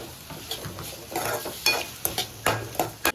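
Chopped green chilli sizzles in a hot frying pan as it is stirred, with close scraping strokes and clinks of a utensil against the pan over a soft, steady fry.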